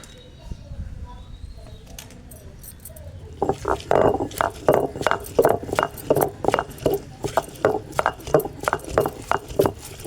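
Rhythmic thudding knocks of a stone pestle grinding drumstick leaf chutney in a stone mortar, starting after a quiet moment and repeating steadily, close and distinct, while a voice speaks faintly in the background.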